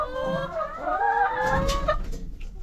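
Free-range chickens in a mobile caravan setup cluck and trill around drip feeders, a run of overlapping, drawn-out calls close by with soft rustling underneath.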